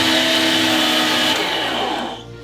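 A food processor chopping duck giblets, including liver, heart and gizzard: a loud, steady motor whir close up that winds down near the end, with no speech.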